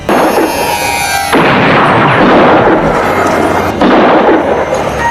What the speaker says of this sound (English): He shoots again and hits Cole's ear